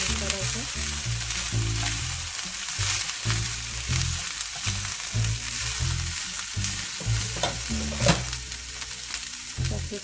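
Curry leaves frying in hot oil in a pan for an Indian gobi dish, a dense continuous sizzle close up with some low background hum, no speech.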